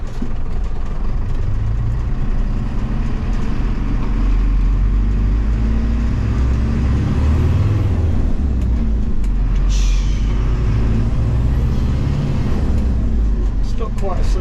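Camper van on its first drive after two years off the road, a steady engine rumble and road noise filling the cabin as people chat throughout.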